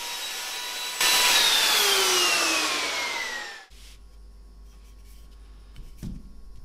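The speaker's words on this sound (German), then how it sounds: "Anschließend fräsen wir noch eine Rundung ringsherum von dem Werkstück." A router mills a rounded edge around a wooden workpiece for a DIY bottle lamp: a loud, steady whining cut of about three seconds, the motor pitch sliding down as it winds off, followed by quiet workshop noise.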